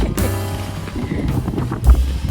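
Steady wind roaring and buffeting a microphone at a mountain campsite in Mount Pulag National Park, a continuous loud rumble with flapping gusts and no talking.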